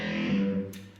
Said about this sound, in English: got my rock guitar on with some distortion and a bit of phaser going through it as well